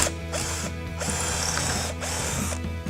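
A power drill boring a pilot hole through a wooden drinks crate, a continuous close whirring grind with a few short dips in pitch and load, loud and alone for about three seconds.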